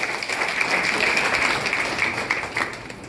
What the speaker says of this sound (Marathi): भाईंसाठी जोरदार टाळ्या झाल्या पाहिजे